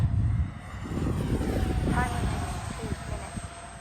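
An Arrows MiG-29 twin 64mm EDF model jet cruising at half throttle in a light breeze, a steady whooshing ducted-fan whine that rises and falls as it passes, heard outdoors from the ground.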